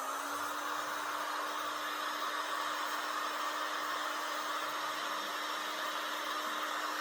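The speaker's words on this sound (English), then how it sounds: "I've waved the heat gun all around it" A heat gun blows steadily on a stuck Dremel rotary tool collar, a constant broadband hiss of rushing air with a faint low motor hum underneath, close and unchanging for the whole stretch.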